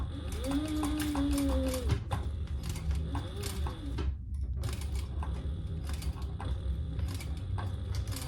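A sewing machine stitches slowly over a vinyl hump while making a crossbody wallet. A steady close mechanical whir and clatter runs throughout, with a short pause midway, then the needle keeps running.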